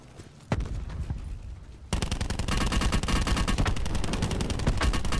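Rapid automatic gunfire in the Call of Duty Blackout battle mode: a single early shot, then a dense, loud, continuous burst of rounds that runs unbroken to the end.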